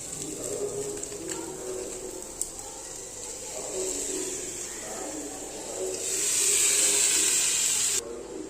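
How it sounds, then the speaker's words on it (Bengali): Ground ginger, cumin and coriander with chili and turmeric powder sautéing in a pan for a cabbage, potato and pea dish, a low hiss with intermittent stirring scrapes that swells to a brighter, louder sizzle near the end. "এরপর আমি লঙ্কা গুঁড়ো, হলুদ গুঁড়ো দিয়ে ভালো করে মশলাটা কষিয়ে"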